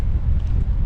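Steady low rumbling wind buffets the microphone outdoors during a road trip, a continuous close blustery roar with no clear gusts or voices.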